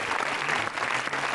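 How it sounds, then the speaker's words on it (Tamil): Studio audience clapping on a Tamil children's TV game show, a steady, fairly soft wash of applause throughout. "இதுக்காகவே கைதட்டுங்க."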